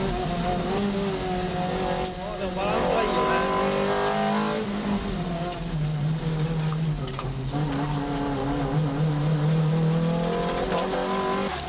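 A Toyota Celica with a 190 hp 2ZZ-GE engine lapping a track, its engine loud and close with steady revving that rises and falls through gear changes, with occasional tire squeal and no talk.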